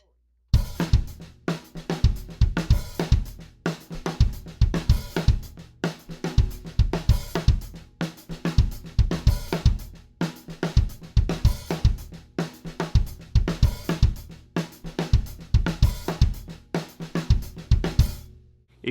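A drum kit plays a fast songo groove, a steady repeating Afro-Cuban pattern of kick, snare and cymbal strokes with crisp dynamic accents, up close and alone for nearly twenty seconds.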